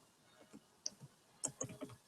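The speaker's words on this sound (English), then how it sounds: "I'll just go ahead and type it here" Typing on a computer keyboard, a quiet, uneven run of light key clicks close by, with no voices.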